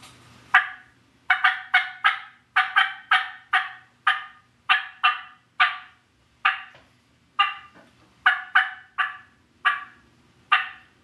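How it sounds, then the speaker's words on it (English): A Primos turkey call worked in sharp cutting and yelping, about two dozen loud, close, raspy clucks and yelps in quick bursts and short runs, separated by silence. "as far as cutting and yelping goes, I'll just do a little bit of each just so you can hear the difference in the 2 calls. This is the Primos call."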